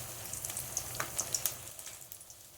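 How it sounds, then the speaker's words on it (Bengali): Fish sizzles quietly in hot oil in a home kitchen, a faint steady crackle with scattered small pops, no voices. "মাছ ভাজা চলছে"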